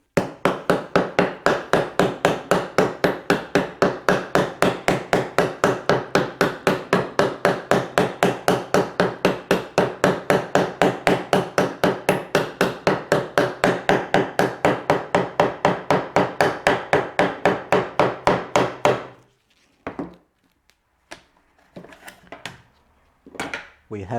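Rapid, even taps on a dovetailed wooden drawer being eased into place, about a hundred close, sharp knocks in a steady rhythm, then a few scattered clicks and handling noises after they stop.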